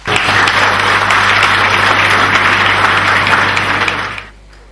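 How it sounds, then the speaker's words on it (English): Loud, dense audience applause fills a 15th anniversary celebration and awards ceremony, steady throughout before cutting off sharply near the end. "And she deserves a big round of applause."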